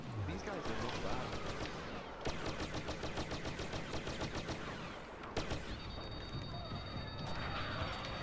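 A turret firing in the video game Star Wars Battlefront, with rapid, evenly spaced bursts of shots in several volleys over busy battle noise, while a player talks throughout.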